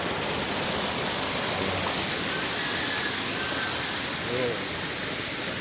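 Steady rushing water pours and splashes continuously out of a concrete canal, a broad wash of flow close by with faint voices underneath.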